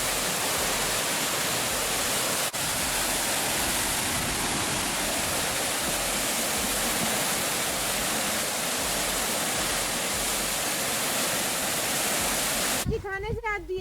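Taranaki Falls in New Zealand, heard up close as a loud, unbroken roar of rushing water that holds steady for the whole stretch, with a brief change only at the very end.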